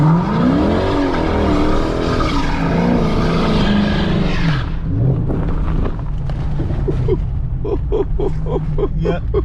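Car at an outdoor car meet spinning its tires, a loud continuous engine roar with tire squeal for about five seconds, then quieter rumbling with short bursts and background voices.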